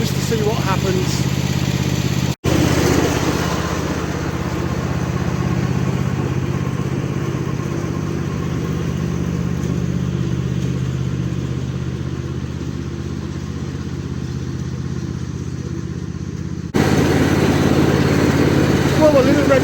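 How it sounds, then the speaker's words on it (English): A small red tractor engine runs steadily in a field, a continuous low rumbling drone with mechanical clatter, loud and close, briefly cutting out near the start and swelling again toward the end. "a little red tractor's trying desperately to pick this up, but it's hard going"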